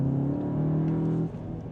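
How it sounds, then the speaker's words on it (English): Engine note of a 333 hp Cupra Formentor VZ with an Akrapovic exhaust, a steady loud drone that drops abruptly about two thirds through, heard alone without talk. "Oh, this Akrapovic exhaust."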